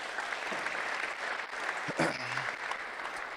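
Audience at a basketball coaching clinic clapping, a moderate, even patter of many hands filling the room, with a brief voice rising over it midway.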